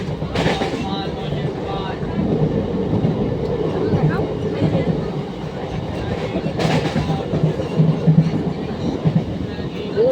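Steady rumble and rattle of a passenger train running on its tracks, heard from inside the carriage, continuous and fairly loud with brief sharper clatters, while people talk quietly in the background.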